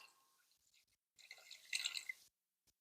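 A full 12-ounce can of canned milk is poured into a chocolate pecan coconut pie filling, giving a soft liquid trickle and splash that builds for about a second, close and fairly quiet.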